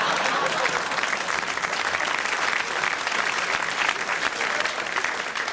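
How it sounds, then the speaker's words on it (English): Comedy club audience at a late-night talk show clapping and applauding, a dense, loud wash of many hands sustained throughout with crowd noise. "What are you clapping at?"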